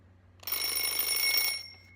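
An alarm clock rings in a steady, bright electronic tone for about a second, loud and close, then cuts off into a quiet room.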